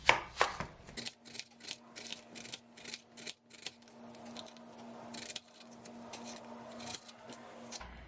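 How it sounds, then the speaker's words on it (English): Onion chopped with a knife on a board, a rapid run of sharp, close knocks, quiet overall, with a faint steady hum underneath and no talk. "now that you have your onions chopped up"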